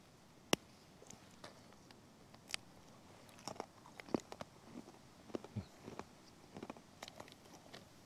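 Crackers being bitten and chewed up close at a camp: soft, irregular crunching and munching, faint and unhurried, with no talking over it.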